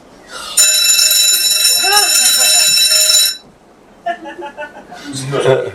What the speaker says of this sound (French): Est-ce que les sonnettes de cet hôtel font du train?